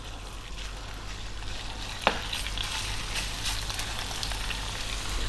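Beef with onion fries in sunflower oil over above-medium heat, a dense continuous crackling sizzle with one sharp clack of a utensil midway, close and steady, no talking.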